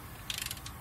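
A torque wrench with a 9/16 socket tightens the pressure plate bolts of a Valair dual-disc clutch on a Dodge G56 transmission, making a brief, close burst of rapid ratcheting clicks.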